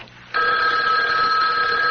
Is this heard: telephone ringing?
yes